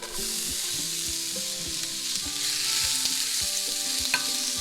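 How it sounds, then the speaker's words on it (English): Onions frying in oil in a 12-inch pan, a loud steady sizzle with a faint pulsing tonal hum underneath, close and uninterrupted. "A little bit of oil, then your onions"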